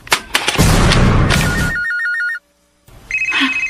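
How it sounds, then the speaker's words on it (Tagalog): A cellphone rings with an incoming call, its warbling electronic ringtone cutting in clearly after loud noise, pausing briefly, then sounding again. "May nanawag doon sa cellphone."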